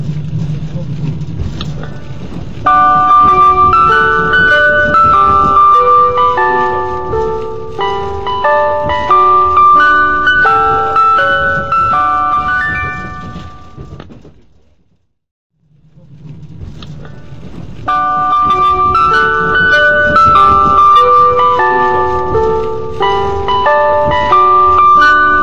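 The Tetsudō Shōka chime melody plays loudly over the onboard announcement system of the Limited Express Inaho 3, a 485-series train. The tune runs through once, fades to near silence, then starts again.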